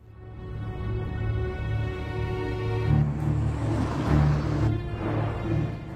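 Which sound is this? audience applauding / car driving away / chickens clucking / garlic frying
car driving away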